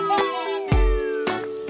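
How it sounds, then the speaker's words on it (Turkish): Bright ding-ding tones of a bicycle bell in a Turkish children's song about vehicles, three sharp strikes with ringing tails spaced over under two seconds, set over a sustained musical backing. "Bisiklet ding ding di ding di ding. Zili çalar ding ding di ding di ding."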